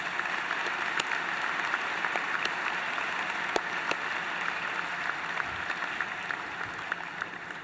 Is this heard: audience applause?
yes